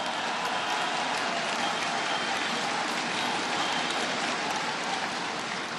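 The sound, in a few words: applause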